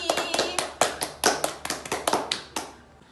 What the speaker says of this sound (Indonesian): Tepuk tangan untuk Mbak Dini.